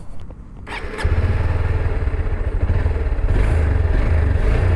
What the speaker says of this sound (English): We'll hear the exhaust sound.